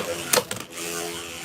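A Beyblade launcher is ripped to send a spinning top into the arena during a tournament match, giving a quick whirring ratchet burst followed by a steady spinning hum.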